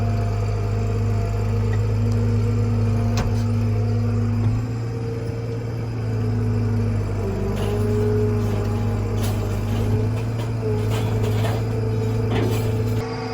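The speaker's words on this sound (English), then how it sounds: "why is the belt squealing so bad? It's the main serpentine belt." A truck engine idles steadily and close, its main serpentine belt producing a continuous high squeal that rides over the low engine drone, with a few faint knocks and rattles.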